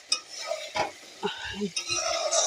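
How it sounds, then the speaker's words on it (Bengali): A spoon scrapes and stirs a thick river fish curry in a pan. The scrapes come in short, separate bursts, with a faint sizzle underneath. "তরকারি একদম ঘন ঘন মাখা মাখা এদিকে লেগে যাচ্ছে তো একটু নাড়াচাড়া করে দিই"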